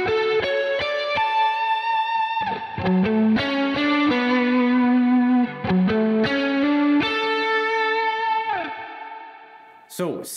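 An electric guitar plays a short, memorable minor-key melody in an 80s soft-rock lead tone, sustained distorted notes washed in chorus, echo and reverb, ending with a brief pick scrape.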